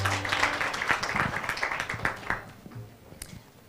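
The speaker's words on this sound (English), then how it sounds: "Big round of applause, please." Audience applause at a CEOs roundtable event, a loose round of hand clapping with scattered sharp claps that thins out toward the end, with faint voices underneath.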